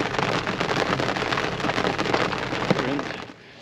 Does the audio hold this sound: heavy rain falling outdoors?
yes